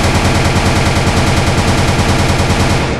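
Rapid automatic gunfire from a machine gun's alternate fire mode in the Murder Miners video game, launching meteors or grenades at bullet speed; a dense, steady, loud stream of shots with no pauses.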